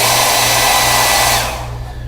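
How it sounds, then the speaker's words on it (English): A hair dryer blows with a loud, steady whirring rush up close, then cuts off and fades near the end. "We put the hairdryer on it."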